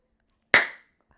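A party streamer popper containing a small firework charge goes off once, a sharp loud crack that decays quickly into silence.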